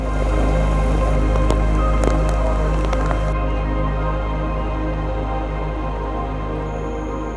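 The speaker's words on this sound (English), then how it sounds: "the weather takes a turn with a heavy downpour" Steady heavy rain pours down at Mulu, Malaysia, with a dense wash of noise, with scattered louder drips and patters on top; no voices.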